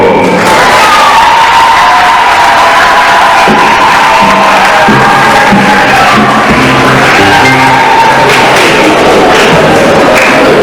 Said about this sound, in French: Nous pouvons applaudir pour le frère Modeste Limon.